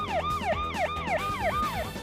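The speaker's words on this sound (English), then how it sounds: "the siren that sounds in the movie is a modern electrical siren" Modern electronic ambulance siren in a wailing yelp pattern, rising and falling pitch sweeps repeating about every third of a second, loud and close with steady engine-like rumble underneath and no voices.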